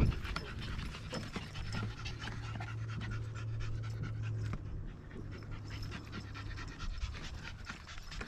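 A dog pants rapidly and steadily at close range throughout, an excited, rhythmic huffing along a marsh trail with no talk over it.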